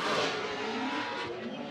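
Drift cars race at a Formula Drift event, with loud, continuous engine roar mixed with tire squeal as they slide close together, dense and unbroken throughout.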